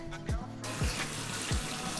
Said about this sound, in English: So I am rinsing these beans.